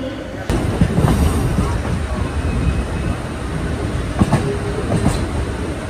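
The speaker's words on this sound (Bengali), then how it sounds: "মেমু ছেড়ে দিল এর্নাকুলাম জাংশন" Alleppey MEMU train pulling out of Ernakulam Junction in Kerala, a steady rumble of rolling stock with faint clicks and a couple of sharp wheel knocks, heard from on board without talk.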